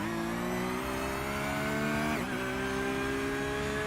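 A Porsche GT race car engine in an endurance sim race at Daytona drones steadily at high revs, then briefly dips as it shifts or lifts and climbs again, loud and continuous with no talking.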